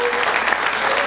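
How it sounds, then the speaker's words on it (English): A church congregation gives a praise clap, a dense, steady wash of many hands clapping together for about a second, fairly loud and continuous with no talk over it. "give the Lord a praise clap in this house"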